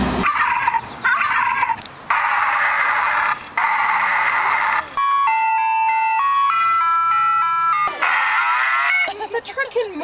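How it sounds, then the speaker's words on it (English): An ice cream truck music box cycles through its sounds: bright looping melodies, an electronic alarm-like tone, simple beeping tune notes and a synthesized animal call, loud and clear with short gaps between segments. "It's just called a music box for an ice cream truck, and it does music, and it's got some alarm sounds, and then the animal sounds."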